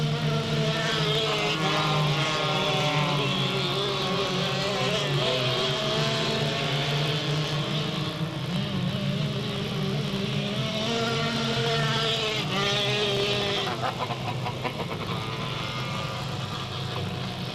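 Race cars roar around the short oval at Delta Speedway on the final lap, a loud, continuous engine drone with pitch rising and falling as the pack passes, steady throughout.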